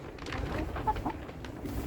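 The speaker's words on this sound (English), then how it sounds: "The chickens have all migrated to in here," Chickens clucking and scratching at the ground in an enclosure, soft scattered clucks over a steady low rumble, close by and fairly quiet.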